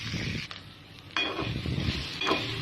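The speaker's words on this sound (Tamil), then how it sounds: "இது நல்லா அப்படியே ஃப்ரை பண்ணிகிட்டே இருங்க" Jackfruit seeds frying in a pan for a sukka fry, a soft steady sizzle broken by a few sharp scraping stirs, close and alone without talk.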